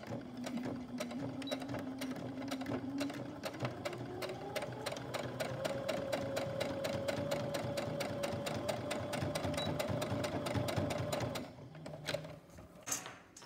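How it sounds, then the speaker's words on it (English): A sewing machine stitches down the edge of a fabric rhino mask, a fast steady mechanical chatter with a rising motor whine that runs continuously for about eleven seconds before stopping, close and alone. "So now we've got to do is just sew down on the edge of this"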